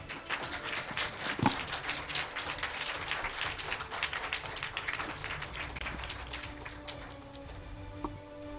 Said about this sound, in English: Let's give one more big round of applause to all our finalists and winners